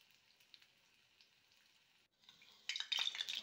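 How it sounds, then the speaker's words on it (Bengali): Lentil fritters (bora) fry quietly in a pan, a faint sizzle that flares louder near the end as they are turned over. "এক পিঠ ভাজা হয়ে যাওয়ার পরে আমি অন্য পিঠটা উল্টে দিচ্ছি"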